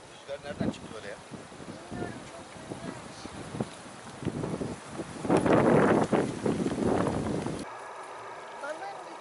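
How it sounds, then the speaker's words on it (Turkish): Gusty wind buffets the microphone at a riverside fishing camp, roaring loudest in the middle before dropping away abruptly, with people talking over it. "Rüzgar nereden çıktı böyle ya?"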